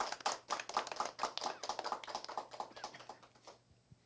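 An audience at a Korean college awards forum claps in a lively burst of distinct, close hand claps that gradually thin out and stop near the end.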